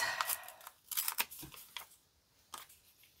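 Paper is torn by hand for a scrappy journal embellishment, a few short, quiet ripping bursts with brief pauses between them, close up and without talk.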